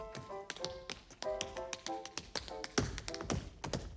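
Tap dancers' shoes strike a hard floor in quick, crisp, irregular clusters of taps, close and distinct, with ringing tones mixed in under the rhythm.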